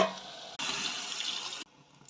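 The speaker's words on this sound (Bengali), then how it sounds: "এবারে গরম জল দিয়ে 2টো সিটি মেরে নেব।" Hot water poured from close by into a pot of chicken kosha makes a steady rushing splash that cuts in suddenly, runs for about a second and stops abruptly.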